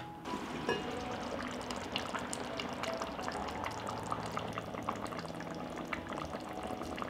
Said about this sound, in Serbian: Poklopiti i kuvati dok krompir ne bude gotov.